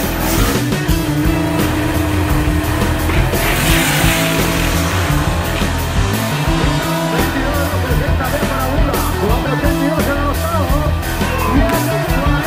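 A V8-chassis race car at a Mustang drag racing event accelerating hard, a loud, continuous roar with a brief tire squeal.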